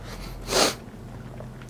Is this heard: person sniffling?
yes